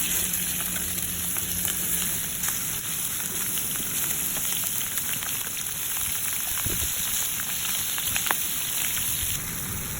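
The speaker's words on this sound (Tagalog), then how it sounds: "First, i-sear muna natin tong mga chicken na minarinate natin." Marinated chicken sears in a hot pan, giving a steady, close, crackling sizzle that holds evenly for the whole stretch with no talking.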